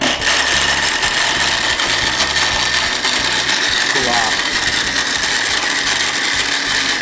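A kitchen blender runs loud and continuous, whipping a sweet candy mixture with a harsh mechanical whirr that holds steady throughout, with no speech over it.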